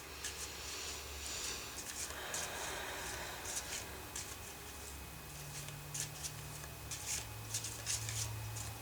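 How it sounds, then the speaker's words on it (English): Quiet, close-up riffling and soft snapping of Domino Angels oracle cards being shuffled, in repeated short bursts with faint background hum. "I'm going to close my eyes and shuffle."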